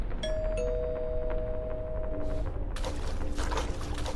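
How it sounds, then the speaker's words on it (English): A doorbell rings in the afternoon, giving a pair of sustained tonal chimes that hang over low background noise and then fade, followed by a few faint knocking or rustling sounds. "Later in the afternoon, the doorbell rang."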